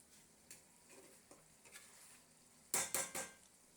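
A metal lid is lifted off a pot of spicy tengra fish curry with boiled potatoes and eggplant: faint scrapes at first, then three loud, close metallic clatters in quick succession, with no talking.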